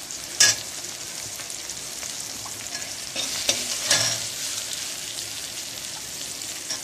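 Turmeric, chili powder and salt sauté in a pan for paruppu urundai kuzhambu, a lentil ball curry. Steady soft sizzling is broken by a few sharp scraping stirs of a spoon against the pan, close and alone.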